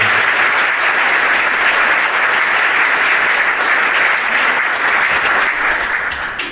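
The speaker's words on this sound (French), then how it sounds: "Les représentants, on peut les applaudir." A municipal gathering audience applauds the young elected members of the children's and youth councils, with steady, dense clapping that stays loud and close throughout before thinning at the end.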